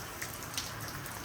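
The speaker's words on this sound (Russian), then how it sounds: "Ну вот, друзья, все-таки дождь начался." Light rain starting on a cold, windy, overcast day, a faint steady patter with a few distinct drops over a soft wash, no talk.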